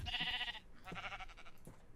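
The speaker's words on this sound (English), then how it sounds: "Alright, I found some more sheep." Sheep in the video game Minecraft bleating, three short wavering baas in quick succession, fairly faint and alone without speech.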